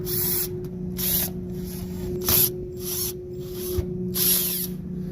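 Metal panels being pulled off an HVAC unit while the blower runs nonstop, giving a steady mechanical hum beneath several sharp scraping and clunking bursts, each a rasping metallic rattle, one louder clank near the middle.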